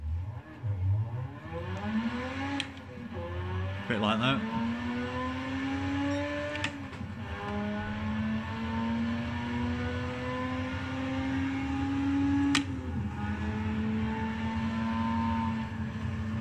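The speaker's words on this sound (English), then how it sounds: "you have to make sure you give it some revs when you're setting off, as you would in a real car" Simulated car engine in Gran Turismo 7 played with a Thrustmaster TH8A shifter on PS5, revving as it pulls off, its steady harmonic tone climbing and settling through several rises, with a sharp click partway and brief talk near the end.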